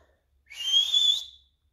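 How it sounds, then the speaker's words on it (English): A single loud, piercing finger whistle held for about a second, rising sharply and fading out against near silence. "he put his fingers in his mouth and he gave a great whistle"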